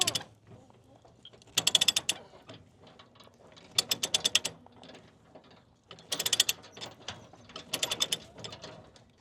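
Ratchet being cranked down to secure a load after power company tree cutting, in four close bursts of rapid metallic clicking separated by quieter pauses with faint handling noise.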